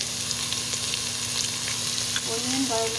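Onion and garlic frying in hot olive oil in a pan while being stirred, a steady close crackling sizzle throughout, with a brief tonal squeak near the end and no talking.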